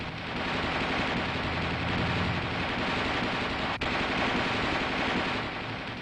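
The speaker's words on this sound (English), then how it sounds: "The gunner continues to fire in 20 to 25 round bursts" An M551 Sheridan armored reconnaissance vehicle's coaxial machine gun fires sustained 20 to 25 round bursts, a loud, dense, unbroken rattle of rapid shots with one momentary gap near the end.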